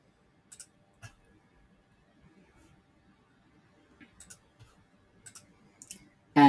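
Soft, sparse mouse clicks ring out in a quiet room while a Power Automate flow test is run, with a few isolated taps and small clusters followed by a louder burst at the very end.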